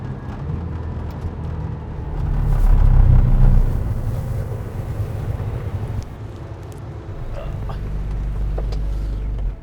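An Aston Martin Valhalla prototype with a V8 engine drives on a track, its deep engine rumble swelling and easing under heavy wind noise, with no clear distinct engine note.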